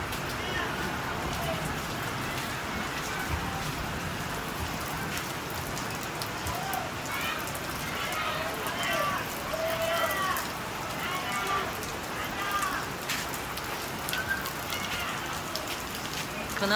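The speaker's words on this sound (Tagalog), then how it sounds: "May ulan dito." Steady rain falling outdoors, a continuous soft hiss of drops on surfaces at low level throughout, with faint bird calls and occasional distant voices in the background.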